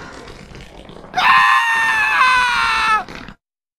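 A man's sustained, harmonic scream in the PSP horror game Shin Mimibukuro, loud and close, rising abruptly over a quieter murmur, holding for about two seconds, then cutting off into silence.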